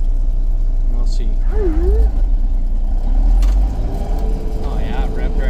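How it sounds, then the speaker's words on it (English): A Claas Dominator 108SL combine harvesting barley drones with a heavy, close, low engine rumble that swells as it revs mid-clip, with a brief voice or whine heard over it. "Oh yeah, it revved right up."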